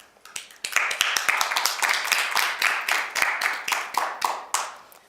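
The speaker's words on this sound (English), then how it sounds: "So today we want to applaud the Trotmans, Alvin and Jose" A studio audience claps steadily for about five seconds, a dense run of sharp hand claps that swells and holds before tapering off near the end.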